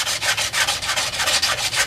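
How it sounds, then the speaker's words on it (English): Rhythmic scratchy rubbing of sandpaper worked back and forth by hand over a custom motorcycle wheel, close and steady, several quick strokes with no voices. "the real quality comes from the hand sanding at the end"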